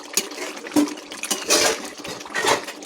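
Chicken feet and gizzard stir-fried in a pan on the stove give off irregular metallic clinks and scrapes of a utensil against the pan, in short bursts close by.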